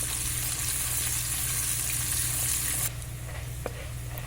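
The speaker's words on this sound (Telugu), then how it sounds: "ఇవి పల్లీలు రెండు మూడు కాజులు మంచిగా కలుపుకోవాలి" Peanuts and a few cashews fry and get stirred in a pan, giving a steady close sizzle with a low hum underneath that drops a little near the end, then one brief scrape.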